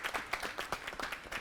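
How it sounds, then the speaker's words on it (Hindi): A short burst of audience clapping, steady and moderately loud, from a small group of people. "तालियां बजाएंगे एक बार"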